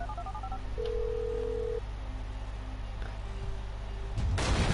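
A telephone dials with a short run of tones followed by a long steady beep and a shorter one, close and clear, before a burst of loud noise at the end.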